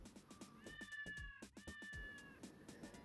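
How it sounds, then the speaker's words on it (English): A cat in the Atari Jaguar game Club Drive meows several times in quick succession, with short bright cries over a quiet background. "I guess that cat just kind of roams around the house randomly."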